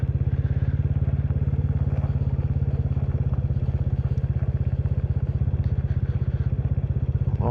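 A Royal Enfield Classic 350 motorcycle thumps along at steady speed, a loud close low-pitched single-cylinder rumble with a fast regular beat under wind noise, heard from the rider's position.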